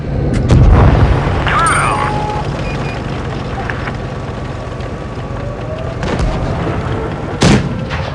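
HE shell fired at an SU-85 tank destroyer in the World of Tanks Blitz video game: a loud booming cannon shot early on, then rumbling battle noise and a second sharp report near the end, with talk over it.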